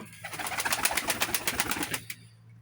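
Pigeons coo in a pulsing, rhythmic run of soft throaty calls, close by, for about two seconds before fading.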